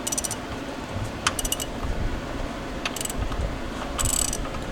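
A ratchet wrench turns the crankshaft of a Tommy Kaira GTR engine by hand, giving a few short bursts of metallic clicking over a steady mechanical hum, close by, with no talk.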